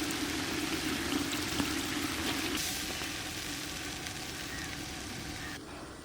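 Cardamom pods frying in hot ghee before rice is added, giving a steady close crackling sizzle with a broad hiss that eases slightly toward the end.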